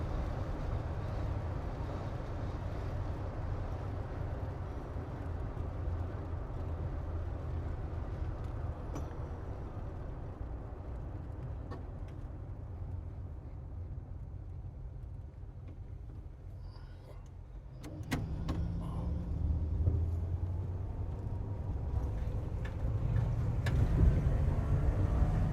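A 1955 Chevrolet 3100 pickup cruising on a freeway at highway speed, a steady broadband engine and road rumble that holds throughout and swells slightly louder near the end.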